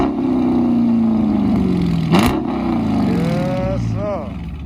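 A 2019 Dodge Charger R/T with a 5.7 Hemi, active exhaust and muffler delete rumbles loudly up close, a deep steady drone that sags, then a short rev climbs and falls away near the end.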